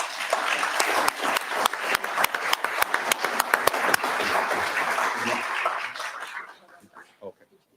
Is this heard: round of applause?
yes